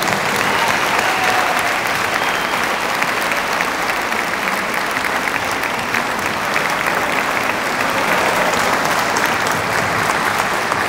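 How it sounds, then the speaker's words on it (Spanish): Dense, sustained applause from a large audience at a municipal event fills the whole span, steady and loud, with no break or talk over it. "suelten por un momentito y le demos un aplauso"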